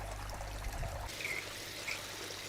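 Water trickles steadily from a spray bar filter down into a small fry pond, a soft continuous splashing close by with no talk.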